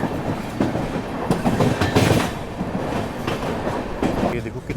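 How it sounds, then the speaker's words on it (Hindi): The Visakhapatnam–Kollam Express rolls past on the rails nearby, a continuous rumble with rhythmic wheel clatter and bursts of wind noise. "बिल्कुल उम्मीद नहीं थी कि हम विशाखापट्टनम कोल्लम एक्सप्रेस को ओवरटेक करने वाले हैं"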